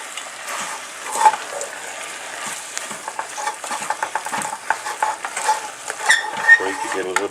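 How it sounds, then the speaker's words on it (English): Beef pieces fry in oil for a paprika stew while being stirred, producing a crackling sizzle with irregular scraping and clacking spatula strokes close by. "Put a bit of a stir now."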